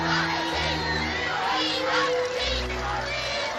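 Large crowd of about ten thousand people gathered on the Mall in London, calling for the royal family, with a steady roar of many voices, shouts and cheers close and dense throughout.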